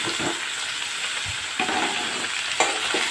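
Chicken with cubed potatoes sizzles steadily in a hot pan, with a constant frying hiss broken by a few scraping stirs of a spoon.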